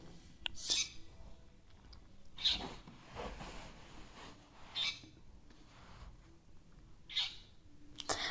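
A bird gives a few sharp, high calls spaced a couple of seconds apart, moderately distant, over quiet outdoor ambience.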